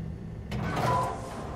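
A heavy sci-fi door in the underwater game Soma slides shut with a sudden mechanical whoosh that swells into a humming rumble, steady machinery drone underneath and no speech.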